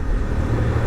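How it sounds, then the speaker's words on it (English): Honda Transalp motorcycle engine running steadily at close range, a continuous low rumble with no break in level across a brief moment of riding. "I do like that engine"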